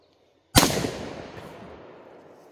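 A single sharp gunshot from a Mossberg bolt-action shotgun, 20 or 16 gauge, fired outdoors: one loud crack after a moment of quiet, followed by a long fading rumble of echo.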